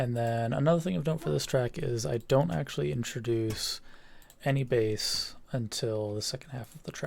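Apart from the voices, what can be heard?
No distinct noise like a dog, phone or traffic.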